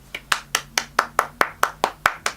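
Hand clapping: about ten crisp, evenly spaced claps in a steady rhythm, close and clear with no voices.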